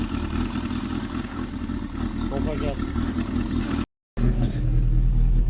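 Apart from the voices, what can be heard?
Tofaş Doğan turbo car engine revving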